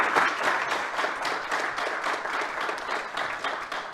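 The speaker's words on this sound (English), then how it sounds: "Let's give Tom White and our panel a big round of applause" An audience applauds a panel at an economic innovation event, with dense, steady clapping from many hands that holds at a fairly loud level for the whole stretch.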